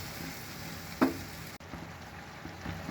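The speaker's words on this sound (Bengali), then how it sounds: "আমি শুটকিটা দিয়ে দিলাম, এটা একটু কষিয়ে নেব।" Dried fish (shutki) sautéing in a pan with a soft, quiet sizzle, a single clatter of the spoon or pan near the start, and light stirring noises afterward.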